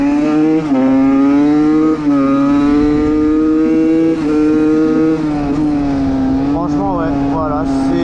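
A motorcycle engine roars loudly and close while the rider holds a wheelie, droning steadily with a few sharp revs and throttle blips near the end, and a voice speaks over it.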